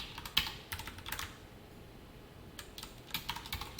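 JavaScript and jQuery code typed on a computer keyboard, with close, quiet clusters of key clicks in short irregular bursts and brief pauses between them.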